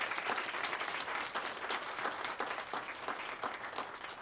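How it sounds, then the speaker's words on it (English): Audience applause at an award ceremony, a sustained round of many hands clapping, steady and moderately distant, with no talk over it. "So I would just like to have a round of applause for Stephanie's leadership."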